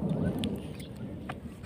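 Rain falls outside with a soft, steady patter and a low rumbling undertone, close and fairly faint, with a few brief sharper splashes.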